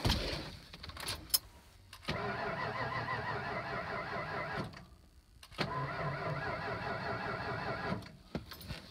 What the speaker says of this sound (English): So as you can hear there, it won't turn over.